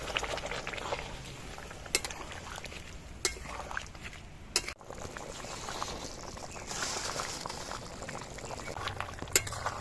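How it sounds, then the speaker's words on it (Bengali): Meat curry gravy simmering in a pot after hot water is poured in, a steady soft bubbling with a few sharp clinks of a utensil against the pan, close and alone with no talk. "এই গরম জল দিয়ে আমি ঝোলটা দিচ্ছি"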